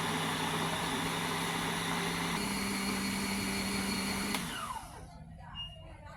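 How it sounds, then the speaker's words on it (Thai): A kitchen blender runs steadily at high speed, whirring garlic cloves with water in its jar, a loud continuous motor drone that shifts pitch midway and then winds down and stops near the end. "ปิดฝาโถปั่นได้เลยครับเราจะใช้เวลาปั่นประมาณ 3-5 นาทีนะครับ"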